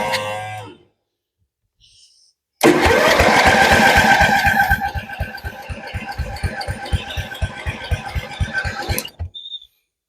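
A forgotten, long-neglected Ford LT-11 lawn tractor is jump-started with cables: after a short quiet pause its engine suddenly catches and runs loud and close with a steady rattling chug, then cuts off near the end.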